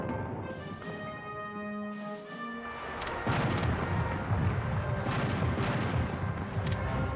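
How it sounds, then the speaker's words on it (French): Naval ships firing in the strategy game Hearts of Iron 3, with deep booming cannon shots and a rising rumble of gunfire layered over a sustained musical tone, loud and continuous in the second half. "J'ai présentement tous ces navires en train de tirer."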